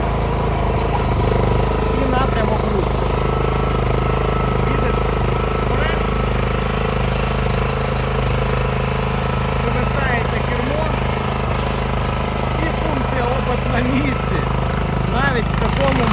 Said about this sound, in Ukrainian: Давайте послухаємо, як один циліндр працює